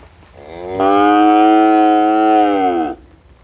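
A single cow at a dairy farm lets out one long, loud, close moo lasting about two seconds, standing alone with no talk.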